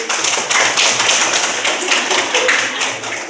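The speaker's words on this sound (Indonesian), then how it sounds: "Tepuk tangan untuk Kiki" Classroom of students at a vocational high school clapping loudly and close by, a dense and steady burst of hand claps lasting several seconds with no talk over it.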